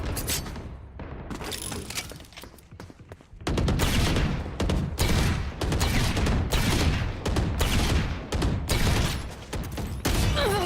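Sharp gunshots ring out in a Valorant deathmatch: a few scattered shots at first, then dense rapid volleys of loud fire in bursts, close and without talk.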